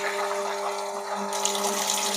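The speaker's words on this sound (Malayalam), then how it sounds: "രണ്ട് സെക്കൻഡ് കഴിഞ്ഞാൽ വെള്ളം വരാൻ തുടങ്ങും" Water rushes steadily into a washing machine drum, a continuous even flow with a low hum underneath, growing brighter partway through.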